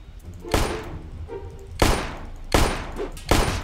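Several sharp gunshots from a pistol in a fighting video game, four loud cracks spaced irregularly over a few seconds, each with a short decaying tail over a low background hum.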